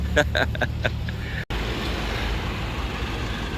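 A small truck towing a big Sea Ray cruiser boat through mountain country in the Batangas region, its engine and road noise a steady low rumble, with a few brief knocks and bumps near the start and a short dropout.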